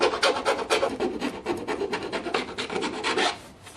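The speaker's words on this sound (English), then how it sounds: "and then I'll just come in with a round file." A round file rasps back and forth through a hole in PVC pipe, producing a quick rhythmic series of close scraping strokes that fade slightly at the end.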